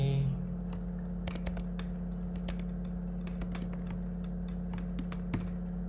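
Steady clicking of a computer keyboard as an email address is typed in, keystrokes in quick uneven bursts over a constant low hum, with no voices.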